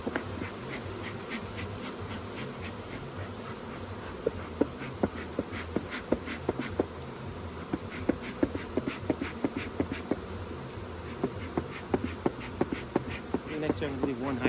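Honeybees buzz steadily around an opened hive during a brood check, a dense close hum with individual bees zipping past the microphone, and no talk.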